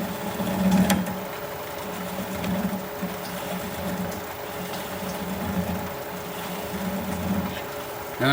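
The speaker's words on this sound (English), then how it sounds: "I'm going to switch to a swept back bowl gouge so that I can get in there a little closer" Buckeye wood bowl turning on a lathe with a swept back bowl gouge, a steady motor hum under soft rhythmic cutting swishes that pulse about once a second, close and fairly loud.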